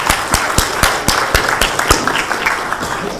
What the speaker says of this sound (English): A round of applause, I'd say.